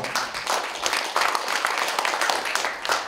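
Audience applause at a Korean art broadcasting culture and arts awards ceremony, a steady wash of many hands clapping for about three seconds, moderately loud and fairly close, with no clear voices over it.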